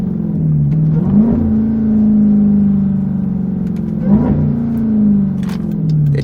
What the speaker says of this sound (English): You can really hear the exhaust a lot more.